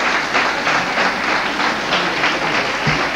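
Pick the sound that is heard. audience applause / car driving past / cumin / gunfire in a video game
audience applause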